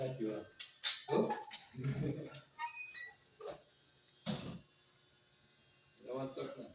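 A dog whines, yips and gives short barks, wanting a door opened, in a string of uneven vocal bursts with pauses between, close by and moderately loud; a person speaks in the same stretch.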